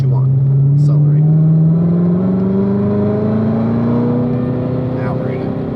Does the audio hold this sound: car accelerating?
yes